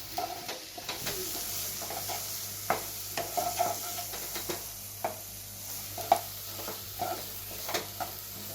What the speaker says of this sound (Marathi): हे बघा आपले मसाले सुद्धा चांगले परतून झालेले आहेत